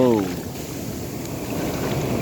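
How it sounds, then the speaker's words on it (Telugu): Large ocean waves surge and break at Rushikonda beach, a dense, continuous roar of surf and wind buffeting the microphone, loud and close throughout. "చాలా చాలా చాలా అంటే చాలా పెద్ద అలలు వస్తున్నాయి"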